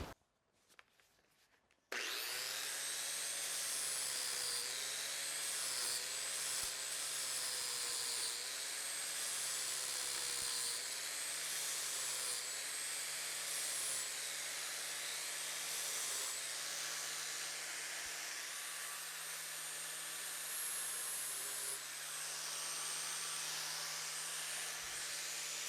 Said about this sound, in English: What I'll do is just use a flap disc and try to clean those up so that I can get a big box wrench on there.